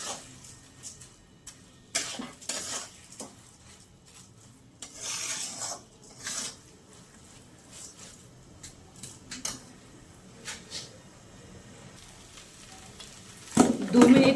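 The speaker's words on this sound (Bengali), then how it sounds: "এই 2-3 মিনিট চালটা মশলার সাথে ভালো করে ভেজে নেব।" Rice frying with spices in a pan for muri ghonto, a low steady sizzle under intermittent scraping and clinks of a utensil against the pan, with a louder clatter near the end.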